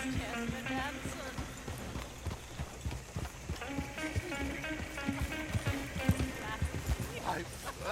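Horse-drawn coach in Red Dead Redemption 2, with steady clip-clop hoofbeats from the team in a continuous rhythm and wheels rattling underneath, while people talk over it throughout.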